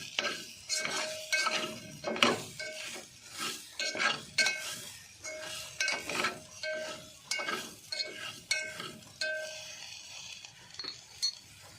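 Meal maker chunks are stirred and fried in a pan in a village kitchen, with a spoon scraping and clinking against the metal in repeated strokes over a soft sizzle, close up and without talk.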